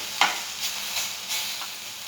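Food sizzling and frying in oil in a pan, a steady close hiss with a few brief stirring scrapes and crackle bursts, no voices.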